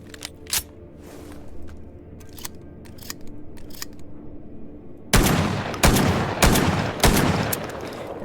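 A trench gun fires in the video game STALKER Gamma: a few sharp clicks over a quiet hum, then a loud run of gunshots in quick succession, several blasts close together.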